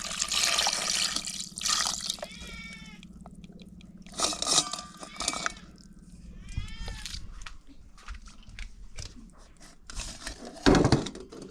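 Water is poured into a pot outdoors so it can be set to boil. The splashing pour comes in quiet bursts with short gaps, and faint background calls come and go.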